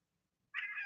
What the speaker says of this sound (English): now the cat's crying at me too